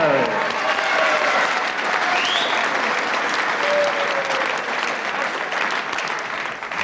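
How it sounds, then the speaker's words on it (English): A wrestling crowd applauds at ringside after an equalizing fall in a bout, a dense, loud and sustained wash of clapping with whistles and cheers. "Everybody clapping here"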